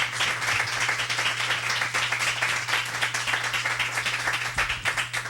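Cabaret audience applauds at Don't Tell Mama, a steady wash of clapping that holds at an even level for the whole stretch, dense and close with no voices over it.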